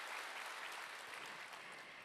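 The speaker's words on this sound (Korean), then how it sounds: "대답하신 분들만 위해서 빨리 성공하시라 박수" Audience applause at a Korean business seminar, a dense, faint wash of many hands clapping heard from a distance, continuous throughout.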